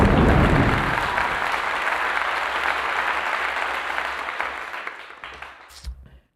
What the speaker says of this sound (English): Okay, round of applause.